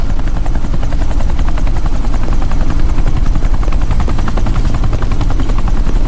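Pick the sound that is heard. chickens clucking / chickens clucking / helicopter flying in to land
helicopter flying in to land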